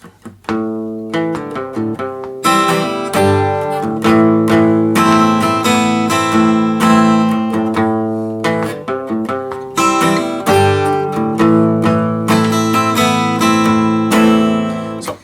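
Loud distorted guitar playing the intro of a song, chugging power chords with a driving rhythm and brief pauses between phrases, no voices.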